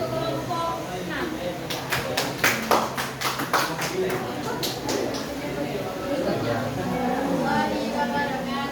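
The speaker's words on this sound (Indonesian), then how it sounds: "Tepuk tangan untuk kelompok 6." A classroom applauds a student group with a short burst of scattered hand claps, close and moderately loud, while voices talk underneath and continue after the clapping fades.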